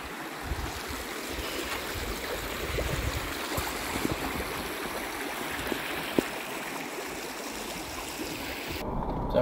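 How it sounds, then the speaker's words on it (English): Flowing water of a clear river at a campsite, a continuous rushing, babbling wash close by with light splashes, steady and moderately soft throughout, with no talking. "Crystal clear water. You drink that stuff straight out of the river if you want to do."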